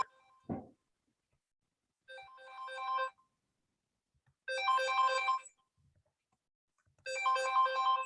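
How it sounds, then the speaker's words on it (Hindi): A phone ringtone plays three times in short melodic bursts separated by silence, following a brief thump at the start; nobody speaks. "फोन बज रहा है किसी का,"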